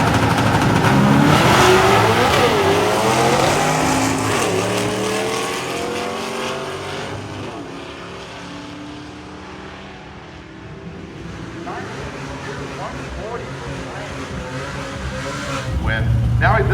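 A drag racing car launches hard down the strip at Hot Rod Drag Week during the stick shift shootout, its engine revving loud and close, with Doppler-like pitch sweeps as it passes, fading, then rising again, while people talk over it.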